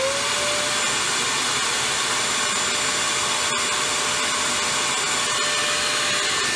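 Vacuum cleaner running inside an RV trailer's utility room, drawing about 780 watts: a loud, steady, unbroken whining roar with a high tonal whine, close and continuous throughout.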